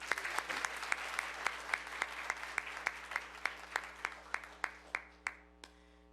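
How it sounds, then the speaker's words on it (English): Audience applause at a Disability Employment Awareness Celebration awards event: a thin, evenly spaced run of claps, fairly quiet, that gradually slows and fades to a few final claps. "Let's give them another round of applause"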